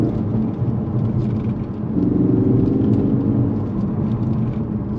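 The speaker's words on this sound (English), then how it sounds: "there's a lot of road noise" Steady low road rumble and tyre roar fill the cabin of a moving Ford Focus RS MK3 with stiff suspension, a continuous droning hum with a faint whine rising midway, no voices.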